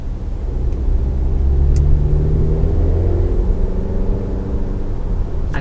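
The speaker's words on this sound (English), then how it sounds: "I can hear the turbo." A 2019 Volvo XC60 SUV accelerating from the cabin, a steady low engine rumble with a rising tone as the turbo builds, heard continuously without talking.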